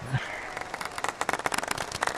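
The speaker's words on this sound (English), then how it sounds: "We get the pity clap." Sparse scattered clapping from a small virtual gallery in the Golf+ video game after a putt, a thin run of separate claps building over about two seconds.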